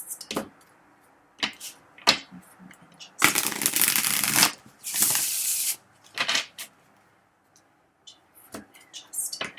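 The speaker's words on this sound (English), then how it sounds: "One more shuffle." A deck of cards shuffled by hand in short bursts, with a long riffle and bridge in the middle, close and crisp in a quiet room, with faint speech between.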